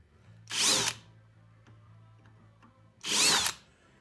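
Two short bursts of a power drill boring into a rivet in a car's metal T-top, each about half a second long and loud, with a quiet pause between them.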